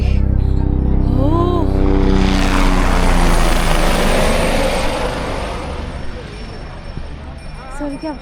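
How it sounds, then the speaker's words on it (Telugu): A helicopter flies below on the Kedarnath pilgrimage route, a loud, steady rotor roar that gradually fades as it moves off, with people talking nearby. "సో హెలికాప్టర్ వెళ్తుంది కిందికి."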